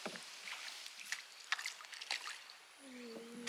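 Irregular hollow knocks and light splashes of a small boat hull against water, close by while bamboo-rod fishing, with a faint tonal whine near the end.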